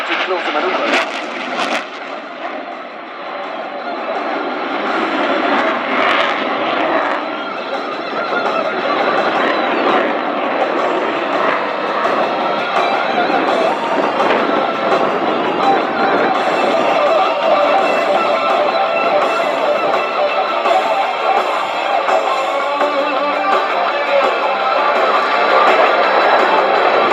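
Italian Air Force Eurofighter Typhoon jet performing a flying display at an air show, its engine roar loud and sustained throughout under continuous commentary.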